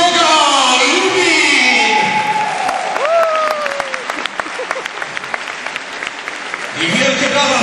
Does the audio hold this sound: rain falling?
no